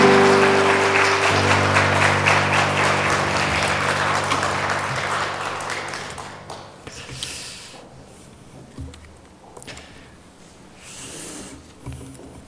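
Congregation at a Sunday afternoon church service clapping together in a long, dense round of applause that starts loud and full, then thins and fades into scattered claps and quiet rustling, with no talk over it.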